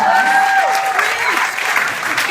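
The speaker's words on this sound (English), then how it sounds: "Give them a huge round of applause." Loud, close audience applause for performers at a singing event, dense clapping with a faint sung or whistled tone above it at the start.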